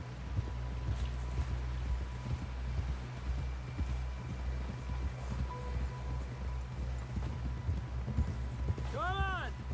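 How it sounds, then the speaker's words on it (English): Horse hooves clip-clop steadily at a walking pace in Red Dead Redemption 2, close and moderately loud under a low ambient bed, with a brief whinny-like tone near the end. "Someone help John down off this horse"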